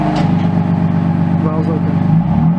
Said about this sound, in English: releasing it now, you can hear the exhaust